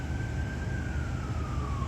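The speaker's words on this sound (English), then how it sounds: "Oh, you hear an ambulance, so you probably have to go." An ambulance siren wails steadily in the background on a street, its tone sliding slowly downward as it passes, over constant broadband traffic and street noise.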